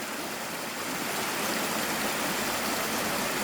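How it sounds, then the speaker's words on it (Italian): A small stream of water runs and murmurs up close in a constant, full rushing hiss that grows slightly louder and stays unbroken, with no voices. "Questa volta mi sono anche avvicinato per ascoltare meglio il mormorio dell'acqua."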